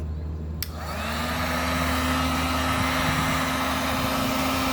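A hot air gun blows steadily to soften the glue on a speaker dust cap, starting after a brief click and holding a loud, even whooshing roar with a slight tonal hum.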